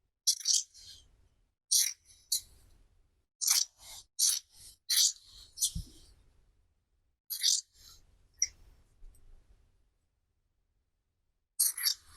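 Scissors cutting fabric for a Viking tunic, a series of short crisp snips in small bursts with brief pauses between, close and clear against a quiet room.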